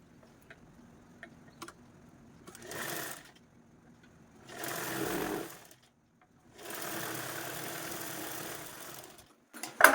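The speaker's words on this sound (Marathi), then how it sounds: "ह्या झेपवरतीच आपल्याला ही झेप आहे ती या पद्धतीने ठेवून स्टिच करून घ्यायची आहे" A sewing machine stitches a zipper onto fabric in three separate runs of rapid mechanical whirring, each lasting one to three seconds, with quiet pauses and small handling clicks between them.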